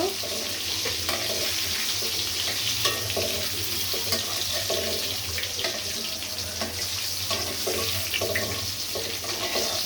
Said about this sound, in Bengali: এখানে হচ্ছে সসেসগুলো আমি ভেজে নিব